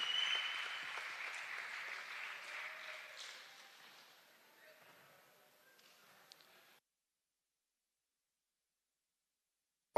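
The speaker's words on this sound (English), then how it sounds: "A warm round of applause." A warm round of applause from a conference audience at an evening session, loud at the start and gradually fading over about seven seconds before silence.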